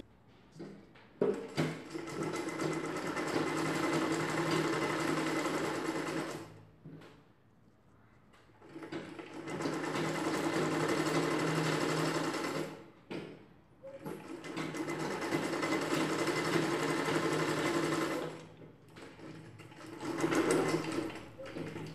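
Sewing machine stitching a zip onto a chudidar dress, running in long steady whirring bursts separated by brief pauses, close and clear, with a voice speaking faintly at times.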